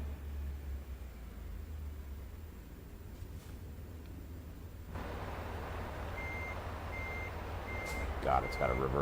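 A truck's reverse beeper sounds in the American Truck Simulator video game while backing a Freightliner Cascadia, with steady intermittent beeps over a low engine rumble and road noise that grow more prominent in the second half.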